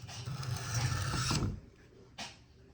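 One pass of a knife blade across a sharpening stone under firm pressure, a close, steady scraping rasp for about a second and a half, then fading, followed by a brief light scrape.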